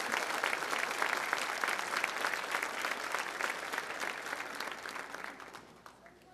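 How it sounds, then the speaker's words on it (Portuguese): A church congregation applauds after the Gospel reading at a Catholic Mass, a full room of steady clapping that holds for several seconds before thinning out and fading, with no one speaking. "Vamos aplaudir o Evangelho de Jesus"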